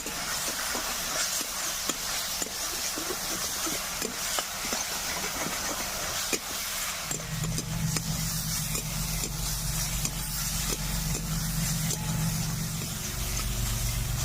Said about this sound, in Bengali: চিংড়িটা দিয়ে হালকা একটু হলুদ লবণ দিয়ে দিব, আর হালকা তেলে এটা ভাজতে হবে।